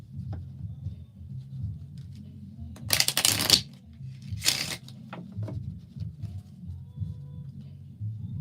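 Kipper tarot cards riffled and shuffled by hand during a reading, two quick papery bursts close by over a low background hum, with softer card handling around them.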